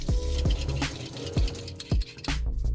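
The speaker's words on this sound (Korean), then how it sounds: "프링클 컷 칼날을 사용했고 감자 두 개가 정말 빠르게 채 썰려서 놀랐습니다" Crinkle-cut blade of an automatic slicer cutting peeled potatoes for chips: repeated sharp thudding cuts at an irregular, quick rhythm with scraping in between, close and fairly loud, no talk.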